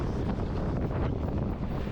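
Steady rushing headwind buffets the microphone of a racing cyclist crouched low at about 35 km/h, a dense, continuous roar with no speech.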